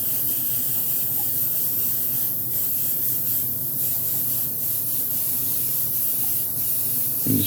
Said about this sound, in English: So we're just misting on the base coat again.